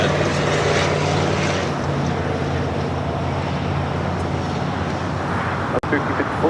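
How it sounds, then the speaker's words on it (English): Hawaiian Airlines Airbus A330 jet arriving from Honolulu at LAX on the north side, a steady broad engine roar sustained throughout with low tonal rumble, under radio chatter. "Hawaiian Flight 10 coming in from Honolulu, A330, next arrival on the north side."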